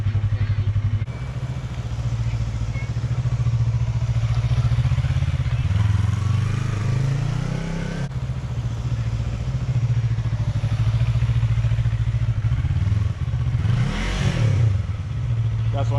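A Yamaha R3 motorcycle ridden slowly on light throttle gives a steady close engine drone with small rises in revs, while a voice speaks over it.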